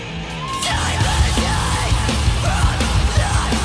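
Harsh, distorted screaming vocals ride over dense, loud heavy metal instrumentation with pounding drums and guitars.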